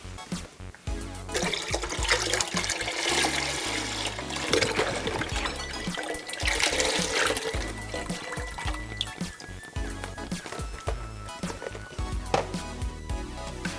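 Thirty-two ounces of liquid for a keto soup pour into a pot in a home kitchen, a close, continuous gurgling splash that rises and falls as the container empties, without talk.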